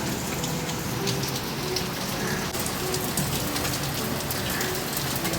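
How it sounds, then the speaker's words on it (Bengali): Heavy monsoon-style downpour drums steadily on surfaces nearby, a dense continuous hiss of rain with no voices. "এডিট করতে করতে দেখি কখন মুষলধারে বৃষ্টি স্টার্ট হয়ে গেছে।"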